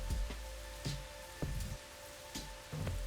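Gloomy rain in the video game Rain Code, a steady patter of drops with soft thumps and splashes recurring every half second or so, under a faint sustained tonal hum.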